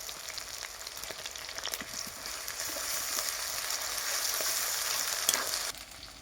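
Ground ginger-garlic paste frying with already browned onions in a pan for a Bengali fish curry. A continuous close sizzle swells steadily with a few stirring scrapes, then drops sharply near the end.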